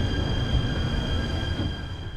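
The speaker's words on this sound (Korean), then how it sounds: "지금 들어오고 있는 열차가 바로 한반도의 등허리, 동해 해안가 라인을 따라 달리는 열차인 누리로입니다." Nuriro train pulling into a station platform along the East Sea coast line, a close, steady rolling rumble with faint high metallic wheel whine over it, continuous throughout.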